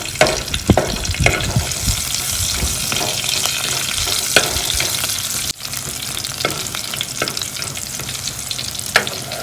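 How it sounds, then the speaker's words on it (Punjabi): Green chillies roast in a pan with coriander and cumin, giving a steady close sizzle and frying crackle broken by occasional scraping stirs, with no talking. "ਹੁਣ ਆਪਾਂ ਇਹਦੇ 'ਚ ਹਰੀ ਮਿਰਚ ਭੁੰਨਾਂਗੇ ਥੋੜੀ ਜਿਹੀ 2 ਮਿੰਟ ਵਾਸਤੇ"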